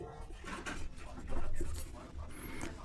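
Marker or chalk writing a math solution on a classroom board, a continuous scratchy stroking sound with short pauses between strokes, fairly close and moderately loud, with no talking.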